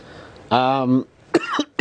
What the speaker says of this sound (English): we can see you still have a cough